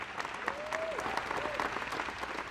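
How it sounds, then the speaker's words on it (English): Applause for astronauts after a space launch, a steady dense crowd clapping throughout with no pauses, and a faint whistle-like tone gliding up and down partway through. "let's give another round of applause for our astronauts"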